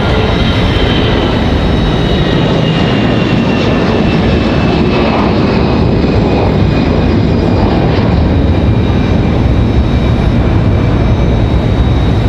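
CRJ regional jet at Raleigh-Durham airport, a loud, close, continuous engine roar with high whining tones running through it and no voices.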